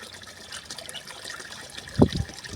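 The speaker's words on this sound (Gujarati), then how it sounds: "કાંઈક પાણી ઓછું આવે છે।" Water trickles weakly from a pump pipe as a motor delivers low flow, a soft steady dribble with a brief louder gush near the end.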